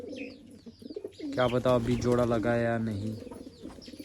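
Someone talks over low cooing of high-flyer pigeons that continues faintly around his voice.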